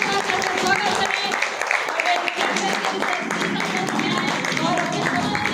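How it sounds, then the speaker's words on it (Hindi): An audience at a Deoria event for the G Ved Wellness company claps to welcome its managing director, a dense, steady wash of applause from many hands under an amplified voice. "जोरदार तालियों के साथ आपका स्वागत करें"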